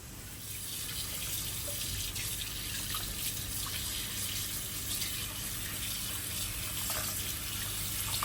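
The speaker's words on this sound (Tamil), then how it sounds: "இந்த இன்க்ரீடியண்ட்டை நம்ம இப்போ வந்துட்டு நல்லா வாஷ் பண்ணி எடுத்துக்கலாம்" Tap water runs steadily into a kitchen sink while raw chicken pieces are rinsed under it, a constant moderate splashing flow with faint knocks.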